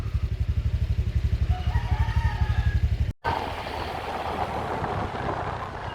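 A small scooter engine putters in a rapid, steady rhythm beside a road in the Philippines, then cuts out briefly before a rougher, broadband engine and road noise takes over.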